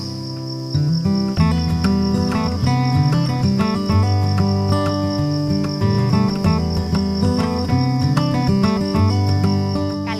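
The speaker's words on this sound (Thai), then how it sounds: "เสียงของจิ้งหรีดที่เราได้ยิน" Steady high-pitched cricket chirping throughout, loud and continuous, layered with a dense tonal hum of many insects trilling together.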